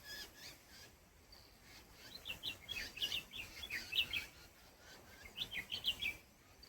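Small birds call in a Nilgiri hill village near Gudalur, giving quick high chirps and tweets in scattered bursts over a soft outdoor background.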